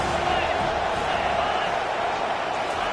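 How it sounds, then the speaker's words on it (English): Roaring home crowd noise in an American football video game, a dense, steady wall of cheering that holds level throughout behind commentary. "Man, this crowd really affecting the football."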